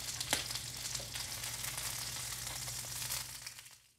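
Chicken pieces frying in a pan for teriyaki, a steady soft sizzle with small crackles and a faint low hum, fading out at the end.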